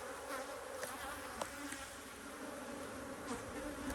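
Honey bees buzz in a continuous, close droning hum, with individual insects whirring briefly louder as they pass.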